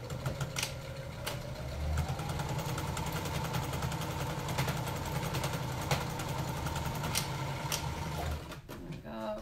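An electric sewing machine stitches down a strip of folded fabric, a close, steady whirring drone with rapid needle clatter that runs for several seconds, then stops abruptly.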